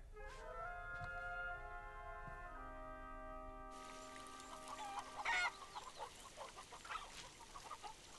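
A mother hen and her chick cluck softly in a quiet rural setting, with faint scattered calls beneath sustained musical tones that fade partway through.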